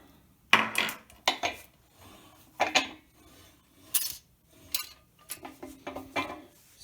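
Hard metallic clanks and knocks as a machined engine block, align-honed at the mains, is handled and flipped over on a bench, a burst of separate impacts spread over several seconds at close range.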